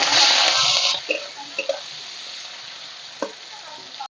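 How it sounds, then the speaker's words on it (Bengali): Loud oil sizzle right up close for the first second as salted, turmeric-coated prawns fry, then a softer steady frying hiss with a few light clinks of a utensil. "প্রথমে মাছগুলো ভেজে নেব"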